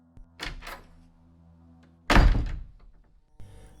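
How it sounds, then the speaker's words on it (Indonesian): A bedroom door opens in a quiet room for a horror story: a soft click and thud, then a louder heavy thunk, and a faint rattle at the end. "Saat itulah aku mendengar pintu kamarku terbuka."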